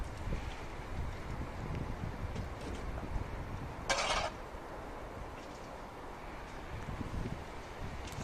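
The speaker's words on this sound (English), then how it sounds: "this morning it's been pretty windy" Strong winter wind gusts around a plastic greenhouse, a steady broadband rush with rumbling low buffeting throughout and one brief brighter burst near the middle.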